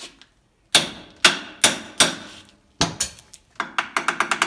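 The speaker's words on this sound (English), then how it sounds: "So give it a little tappy tap." A hammer taps on a Chevy Traverse u-joint: sharp metallic strikes, spaced singly at first and then a quicker run of lighter taps at the end, each ringing briefly before fading.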